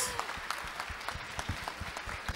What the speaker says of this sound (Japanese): 皆さん、もう一度大きな拍手お願いします。